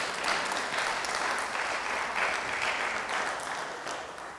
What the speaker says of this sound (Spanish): Y yo creo que eso vale la pena darle un aplauso a Él.